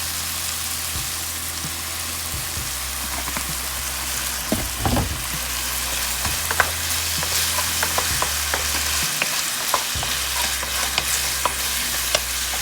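Steak sizzles loudly and continuously on a hot home hibachi griddle with soy sauce added, a dense frying hiss with scattered pops and spatula scrapes throughout.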